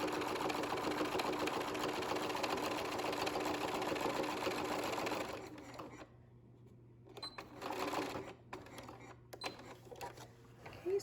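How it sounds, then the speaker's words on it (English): A sewing machine runs a few stitches and a backstitch on a handmade zipper pouch, a steady close mechanical whir for about five seconds, then stops, leaving quieter handling noises. "sew a few stitches and back stitch"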